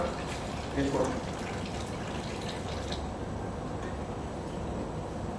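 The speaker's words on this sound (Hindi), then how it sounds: "एक साइड से ये पानी निकल रहा है जो पीने के लिए है" Water pouring steadily from a Kangen water machine, a continuous close trickling wash that stays at an even level from start to finish, with a brief murmur of talk early on.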